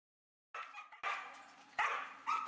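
Dogs at an animal shelter bark in three or four loud, close outbursts, each barrage starting abruptly after a moment of silence.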